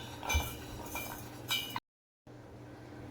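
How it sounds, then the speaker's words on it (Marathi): A few light clinks as a roasted spice mixture is tipped into a mixer jar, faint and close, followed by a brief silence. "भाजून झालेलं मिश्रण आपण मिक्सरच्या भांड्यात घालून घेऊया"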